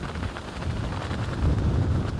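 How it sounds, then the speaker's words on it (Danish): Wind blows hard in snowy weather over Aalborg, rumbling and buffeting close against the microphone in a continuous low roar. "og det blæser."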